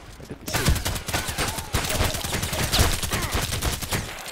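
Assault rifle fire in the shooter game Contract Wars, rapid repeated shots in dense bursts after a brief quiet start, fairly loud and continuous with a few louder cracks.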